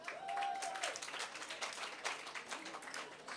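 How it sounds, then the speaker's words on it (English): An audience at a keynote speech at a meet-and-greet event applauds, dense sustained clapping from many hands throughout, with a faint tone near the start. "those of you who are clapping, they see themselves in what I'm saying"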